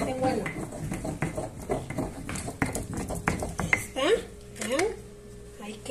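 Green chile sauce for aporreado being ground by hand close up: a run of repeated scraping, knocking and clattering strokes, uneven in rhythm, with a voice speaking over parts of it.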